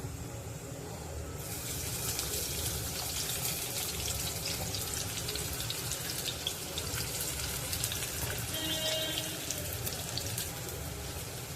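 Chopped onions and cumin frying in hot oil in a pan for Amritsari chole, a steady broadband sizzle and crackle that stays close and constant throughout, with no voices.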